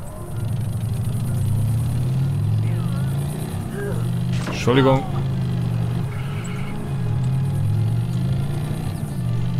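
In the video game Just Cause 3, a motorcycle engine drones and revs with shifting pitch, steady throughout, while someone speaks briefly over it.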